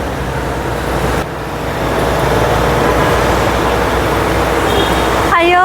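Street traffic rumbles loud and close in a continuous roar as vehicles pass, with a brief dip in the noise and a short whine-like tone near the end.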